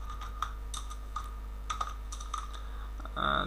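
Computer keyboard typing in short bursts of separate clicking keystrokes, close and fairly quiet, with a quicker cluster of taps at the end and no talking.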